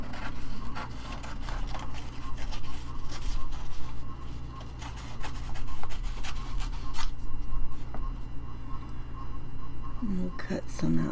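Trimming packaging covered in vintage music paper for a mini junk journal, with steady close rasping and cutting sounds and many quick taps and clicks running continuously at a moderate level.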